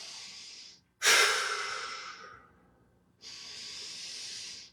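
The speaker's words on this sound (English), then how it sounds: "Take a couple deep breaths." Deep breaths during a flexibility and balance workout, drawn in through the nose and pushed out through the mouth: a soft inhale, a strong airy exhale that fades, then another long breath, close and alone.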